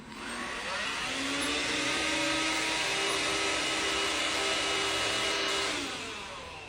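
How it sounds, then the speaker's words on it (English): A machine's motor starts up with a rising, steady whirring hum, loud and close, holding constant for several seconds and then tapering off, with no voices. "the machine comes to life, lights flickering, motor humming"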